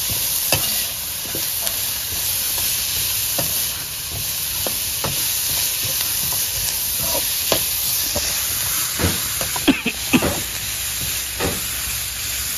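Upma frying in a pan gives a continuous sizzle and hiss, with repeated scraping and clinking of a spoon stirring the ingredients at an irregular pace, close up and with no talking.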